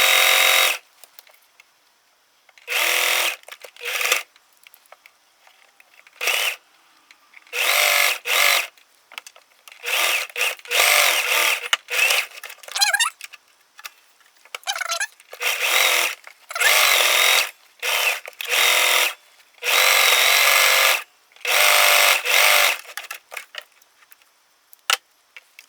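A sewing machine runs a zigzag stitch along a bias-cut fabric seam in repeated bursts, each a steady, close, whirring buzz lasting a second or two, separated by short silent pauses, with no talking.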